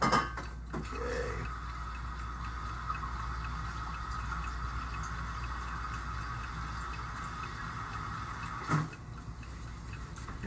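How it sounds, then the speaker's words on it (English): Water being poured into a measuring cup in a home kitchen, a steady, soft pouring hiss over about ten seconds, with a light clink of the cup at the start and another near the end. "we're going to add, let's see here, 1 3/4 cup of water."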